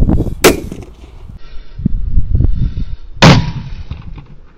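Two sharp, loud firecracker blasts go off inside a metal kettle, about three seconds apart, each bursting with a ringing, hollow edge, while a steady fizzing hiss of burning fuse runs between them.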